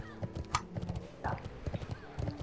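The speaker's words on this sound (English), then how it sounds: "Oh my god, I'm on a horse. No one warned me I'd be on a horse." Horse hooves clip-clopping in the video game World of Warcraft, a steady, fairly quiet series of hoofbeats with an occasional whinny and a voice talking over them.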